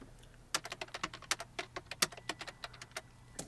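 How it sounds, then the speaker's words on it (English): Fingers tap a computer keyboard in quick, uneven bursts of close, crisp keystrokes, some clacks sharper than others, quiet overall and with no voices. "typing for when that's coming on."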